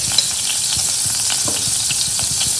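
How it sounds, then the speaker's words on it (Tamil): Steady crackling and spluttering of cumin seeds frying in hot ghee, a dense continuous sizzle with rapid little pops throughout. "இப்போ சீரகம் பொரிஞ்சிருச்சு"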